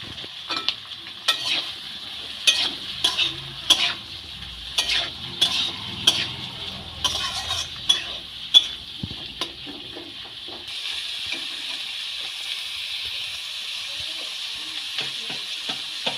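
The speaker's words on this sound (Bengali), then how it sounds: "এবার এই সমস্ত সবজি আমি ভেজে নেব।" Onion, capsicum, carrot, beans and green chilli stir-fried for chicken chow mein, a string of sharp rhythmic spatula scrapes and clacks against the pan over a sizzle that continues steadily after the stirring stops.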